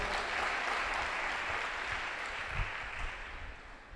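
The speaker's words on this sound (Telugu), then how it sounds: "కొట్టు చప్పట్లు ఒకసారి." Audience at a Christian ministry gathering in Guntur clapping together: a dense, steady wash of applause that holds for about four seconds before easing slightly toward the end.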